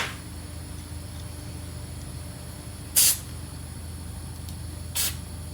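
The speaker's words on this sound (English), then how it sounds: "I'm just going to go ahead and squirt these out with carb spray." Two short, sharp hissing bursts of carburetor cleaner spray into a Holley 800 CFM carburetor, a couple of seconds apart, over a steady background hum.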